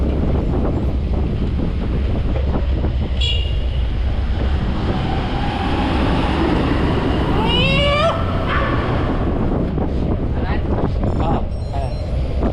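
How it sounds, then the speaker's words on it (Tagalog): Cats meowing outdoors near a gravel cycling route around sunrise, a couple of faint rising calls around the middle against steady wind rumble and broadband outdoor noise. "tingnan nyo, may pusa ulit dyan"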